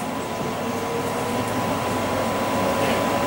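Steady interior rumble of a Crossrail Class 345 train running toward Shenfield, a loud, continuous low roar of wheels and traction with a faint constant whine layered on top and no talk.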